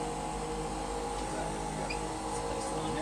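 Vacuum pump of a laminating machine used for refurbishing an iPhone 6S screen runs as a steady, even hum with a constant mechanical drone and no talk over it.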